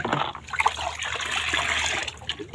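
Starch water organic fertilizer being stirred in a container for a home garden, a short burst of sloshing, trickling liquid that stays fairly steady and close throughout, with no voices.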